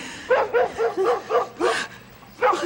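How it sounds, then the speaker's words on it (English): A dog barking in a TV sitcom scene, a string of about seven sharp, close barks in an uneven rhythm with a short pause before the last, loud and clear. "Oh, he only barks at Archie."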